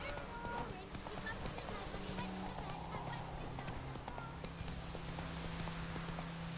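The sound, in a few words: horse Roach galloping in video game The Witcher 3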